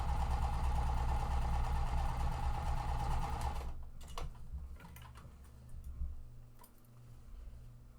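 A sewing machine pieces quilt blocks in a fast, loud, steady run of needle stitching for a few seconds, then stops, leaving faint clicks and handling sounds.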